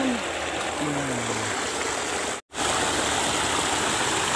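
A small river stream flowing, heard as a steady, loud, broadband rush of water that continues throughout, broken by a brief cut near the middle, with faint voice-like tones early on.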